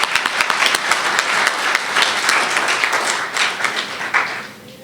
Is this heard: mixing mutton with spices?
no